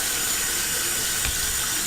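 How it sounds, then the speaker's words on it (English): A kitchen tap runs a steady stream of cold water to rinse boiled salt codfish in a sink, a continuous close splashing hiss with no talk. "now I'm going to rinse with cold water."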